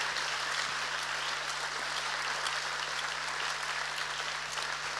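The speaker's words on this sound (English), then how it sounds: "Round of applause for Fiona Buffini." A theatre audience at a season launch claps in sustained, dense applause, an even wash of many hands at moderate distance with a low hum underneath and no voices.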